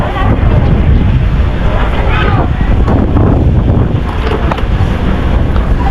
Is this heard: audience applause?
no